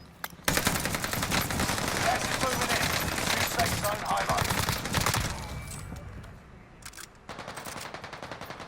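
Rapid automatic gunfire from a Call of Duty: Warzone match on Caldera, dense sustained bursts for several seconds, a brief lull, then another burst, with players talking over it.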